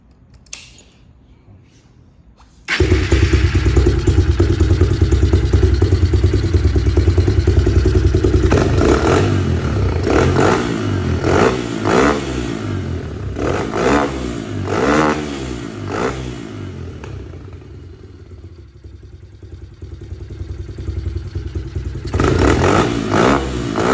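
A Honda XR150L motorcycle fitted with a 28mm carburetor and new filter fires up after a quiet moment. It then runs loud and close, with a clattering idle, several sharp revs and a rough settling rumble.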